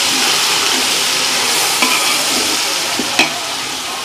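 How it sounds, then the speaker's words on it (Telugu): Ginger garlic paste frying with onions in a hot pan, a steady loud sizzle throughout with a couple of faint utensil scrapes and knocks. "అల్లం వెల్లుల్లి పేస్ట్ వేసుకొని వేయించుకున్నా."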